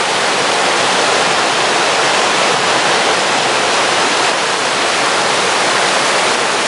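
Rushing water from the Yaken waterfall and its river, a steady, loud, broadband roar of falling and flowing water that stays constant throughout with no voices.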